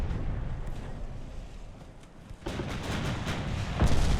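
Naval gunfire strikes a battleship's stern in the Ultimate Admiral: Dreadnoughts video game, heard as a rumbling broadband impact that rises midway, followed by a heavier boom near the end over constant low battle rumble.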